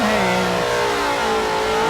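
A car engine revs hard during a burnout at Summernats, a sustained loud high-pitched roar with rising and falling tones, close up and with no talk.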